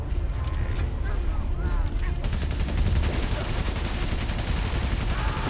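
Cannon shots fired in the video game Valiant Hearts: dense, loud volleys of booming, crackling reports that continue steadily through the clip, mixed with mechanical clatter.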